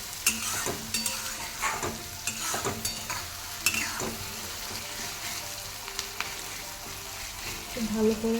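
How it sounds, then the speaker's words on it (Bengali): Onion and green chili frying in oil in a pan until brown, a steady close sizzle with repeated clinks and scrapes of a stirring spatula, while someone speaks briefly over it. "ব্রাউন করে ভাজবো লঙ্কাকে আর পেঁয়াজকে"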